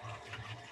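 Cold tap water running into a bowl of crumbly pastry dough, a faint continuous gurgling pour with no talk over it.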